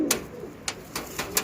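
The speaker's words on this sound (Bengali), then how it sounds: "এটা হচ্ছে লাল শিরা পায়রা, এটা আমরা লাল শিরা পায়রা, ব্রিডিং পেয়ার।" An Andhra Lal Shira pigeon from a breeding pair coos in a short burst of soft, low calls close by, several quick notes spaced unevenly over a quiet background.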